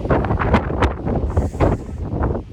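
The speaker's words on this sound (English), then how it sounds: "So yeah, it's always very windy." Strong wind gusts buffet the microphone on a windy hilltop monument rising above flat land, a loud continuous roar with uneven surges and no voice.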